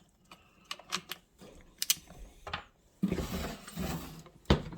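Screws are backed out of the recoil starter on an old Pioneer P40 chainsaw, with small clicking, ratcheting taps close up and a louder scraping rattle in the last seconds.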